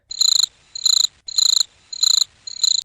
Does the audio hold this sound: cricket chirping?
yes